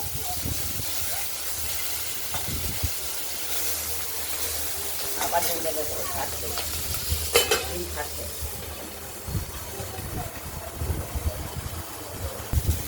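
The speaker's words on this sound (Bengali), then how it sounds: "মাছও ভাজা হয়ে গেছে, ডিমও ভাজা হয়ে গেছে।" Katla fish pieces and fish roe fry in a wok, a continuous loud sizzle and hiss with occasional stirring scrapes and clatters throughout.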